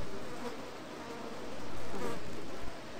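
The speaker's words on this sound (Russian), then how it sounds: "Я слышу мух, но я их не вижу." Flies buzzing faintly and continuously in a horror video game, a soft droning hum that swells and fades slightly with no talk over it.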